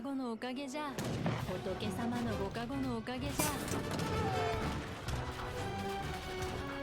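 Gunfire and artillery blasts in an Age of Empires 3 battle, repeated bangs and crashes layered over game music and effects, with a commentator talking over the action.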